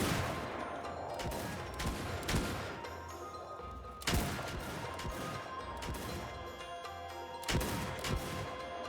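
Volleys of gunfire in the samurai-era game Shokuho ring out over a busy battle bed, with sharp loud reports recurring every second or so and heavier cracks standing out.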